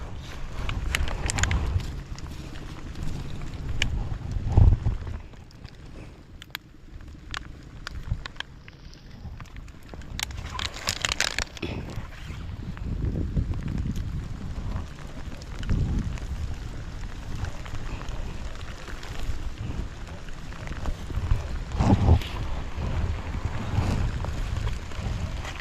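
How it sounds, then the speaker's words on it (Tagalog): Strong wind buffeting a microphone in a storm-damaged tomato garden after a typhoon, a steady low roar with rushing gusts that rise and fall, close and loud, with no voices. "Tinitira ng hangin."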